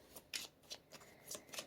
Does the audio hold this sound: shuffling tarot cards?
yes